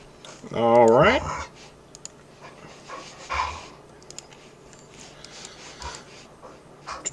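Two huskies and a Samoyed pant nearby in a room, with a loud burst of quick breathing and a whimpering whine early on, then softer intermittent panting among keyboard and mouse clicks.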